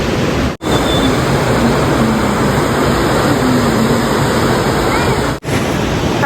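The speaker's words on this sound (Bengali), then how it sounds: "আর প্রচন্ড জোরে এখন বৃষ্টি চলে এসেছে" Heavy rain pours at a bridge viewpoint near Lachung in North Sikkim, close to a waterfall, as a loud, steady, dense hiss that fills the whole stretch, broken only by two brief dropouts.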